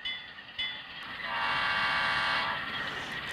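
A model train's sound decoder plays a sustained ringing bell tone that swells and holds, with a brief click before it starts.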